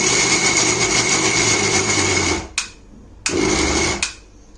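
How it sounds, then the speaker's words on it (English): A kitchen grinder blending dates with honey into a thick paste whirs loudly and steadily, cuts out, then starts again in a short burst before stopping. "So let's just grind the dates with honey."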